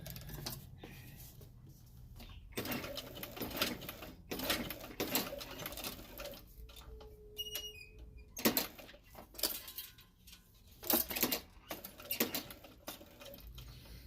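A sewing machine stitches in short bursts with pauses between them, pivoting at a corner with the needle buried. The sound is close and fairly quiet, with small clicks and rattles and no talk.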